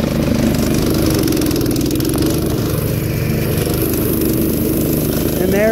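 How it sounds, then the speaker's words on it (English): A Huskee LT3800 lawn tractor mowing through a big pile, its engine running at a steady, loud, close drone with a churning rumble and a brief rising whine near the end. "All right, now watch me mow through this."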